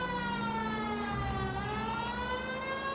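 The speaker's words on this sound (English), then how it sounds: "Why aren't you using the siren?" A police car siren in the LA Noire video game wails loud and close with rising and falling pitch, holding steady for the whole stretch.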